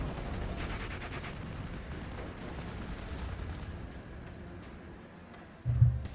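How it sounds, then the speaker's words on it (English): A naval artillery barrage in a 1917 war strategy game: a dense, continuous rumble of distant heavy guns rolls steadily, ending in a sudden louder, closer thump. "Naval Warfare fires another barrage."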